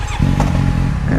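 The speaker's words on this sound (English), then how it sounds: "I already hear that one cylinder shutting off because of the fan while it's idle" Idling motorcycle engine running slightly uneven as one cylinder shuts off for the fan, a steady close low rumble with faint mechanical clatter.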